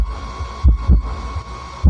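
A car subwoofer powered by a TB21 mini amplifier pounds out short, deep bass thumps in an uneven beat over a steady hum, loud and close.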